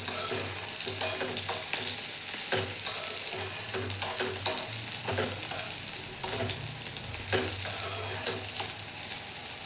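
Sliced bitter gourd frying and sizzling in a pan for a Marathi-style karela bhaji, a steady crackle broken by periodic scraping stirs, close and fairly loud with no talking.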